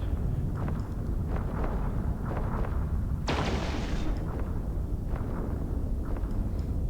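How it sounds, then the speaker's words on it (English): Ship weapons fire in the EVE Online space game as a run of dull, muffled booms and blasts at steady intervals. A harsher burst cuts in partway through, and a constant low rumble sits underneath the whole time. "And let's open fire on it as well."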